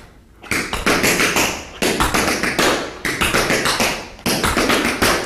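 Tap dancer performing quadruple drawback steps, crisp close taps in rapid clustered bursts of four-ish strikes, repeated in several phrases with brief pauses between, loud and alone.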